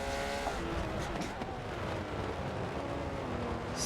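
Engine roar of a TVR race car in a Daytona 24-hour racing video game, a dense continuous drone with a faint rise toward the end, heard in a constant wash with no clear pass-by peak.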